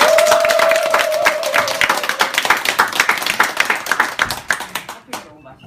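An audience claps at the start of a book meeting in a cafe. The applause is steady and dense, with a few cheers, and tapers off at the end. A voice is briefly heard over it near the start.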